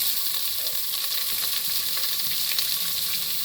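Onions frying in a pan for aval upma (flattened-rice upma) make a steady, close, loud sizzle with a dense crackle that stays even throughout, with no talking.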